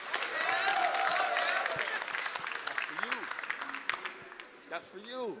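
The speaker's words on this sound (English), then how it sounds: "Can you give her a round of applause?" An audience at a blockchain workshop gives a round of applause, dense clapping that fades over a few seconds while voices and cheers rise over it.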